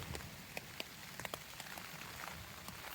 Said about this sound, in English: it rained all night. And it's raining now.